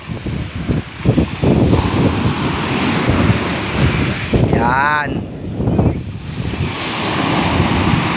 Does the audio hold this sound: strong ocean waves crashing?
yes